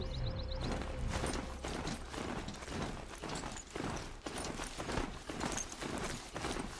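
Steady clip-clop of horse hooves at a trotting rhythm in Horizon Zero Dawn on PS5, continuous and fairly even, with faint mechanical clicks in the background.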